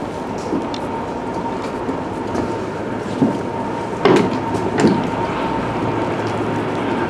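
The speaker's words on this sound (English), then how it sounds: "And we'll let this train go by." A train rolls steadily past close by, a continuous loud rumble with metallic wheel clicks and a few brief knocks as the cars go through, no voices.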